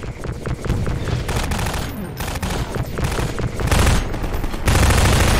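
Gunfire in the video game Half-Life 2: a dense, sustained barrage of loud rapid shots and bursts that barely lets up, with heavier blasts toward the end.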